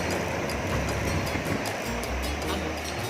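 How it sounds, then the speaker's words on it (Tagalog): Strong ocean surf rolling at San Juan, La Union surf beach, a continuous loud wash of breaking waves with wind buffeting the microphone throughout. "Ang lakas ng alon."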